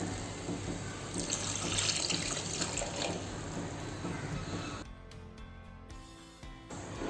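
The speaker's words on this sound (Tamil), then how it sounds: "இப்போ அதே மிக்ஸி ஜாரில் இருக்கிற தண்ணி ஊற்றி வச்சுருக்கேன். அதை அலசி இதில் ஊற்றிடலாம்." Water is poured and swished to rinse a mixer grinder jar while making a Chettinad-style quail gravy, a steady splashing tap-and-sink sound that cuts to sparse drips and gurgles near the end, close by with no talking.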